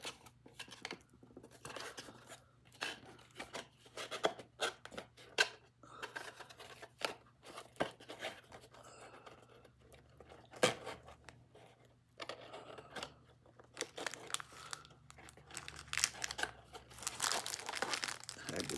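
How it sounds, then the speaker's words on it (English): Close crinkling, scratching and tearing of tape being pulled and pressed onto a cardboard box, in irregular rustling bursts that run throughout and grow busier near the end. "I'll get a piece of tape and tape it."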